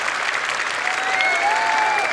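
A dense wash of applause from a crowd, steady and loud throughout, with no break.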